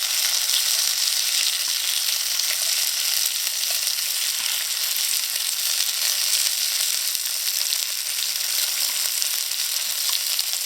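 Potato pieces frying hard in a pan over gas turned up high, a dense, even sizzle with crackling pops throughout, close and loud, no talk.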